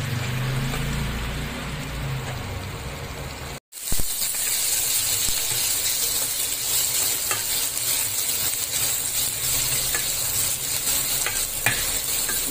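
An egg mixture thinned with rinse water from a blender jar bubbles and sizzles hard in a pan, a dense, close, continuous frying hiss broken by one brief cut before resuming, with no voices.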